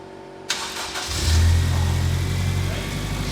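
A turbocharged Honda Integra Type R engine cranks and fires up, then settles into a steady, loud idle close by.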